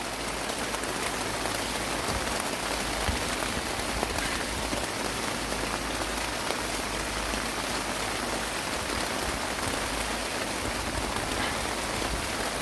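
Steady rain falling in an apple orchard, a dense continuous hiss of drops that stays even and loud throughout with no voices.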